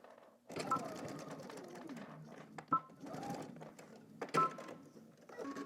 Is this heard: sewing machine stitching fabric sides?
yes